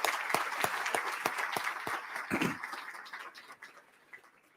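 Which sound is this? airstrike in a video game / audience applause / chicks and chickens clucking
audience applause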